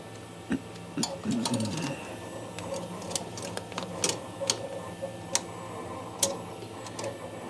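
Three embroidery machines stitch designs onto beanies, giving a steady, fast mechanical ticking and clatter with scattered sharper clicks, heard close in a workroom.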